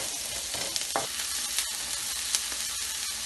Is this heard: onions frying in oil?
yes